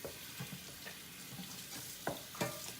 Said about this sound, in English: Hand whisking it.